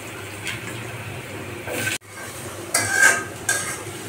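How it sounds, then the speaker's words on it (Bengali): Potatoes fry in hot oil with whole cumin in a pan while being stirred, a steady close sizzle broken by scraping strokes of the spoon and a brief clatter against the pan, with no one talking. "আলুগুলো ভেজে নিতে হবে সুন্দর করে।"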